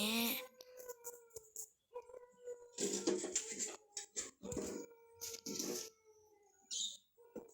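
Dogs bark and howl in repeated irregular bursts, loud and close, with drawn-out howls between short barks and brief pauses.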